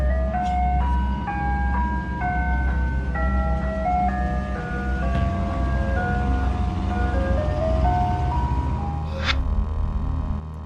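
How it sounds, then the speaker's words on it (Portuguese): An ice cream truck creeps slowly toward a house in the dead of night, its looping chime melody playing steadily and clearly over a low engine rumble. "na madrugada visse um caminhão de sorvete se aproximando"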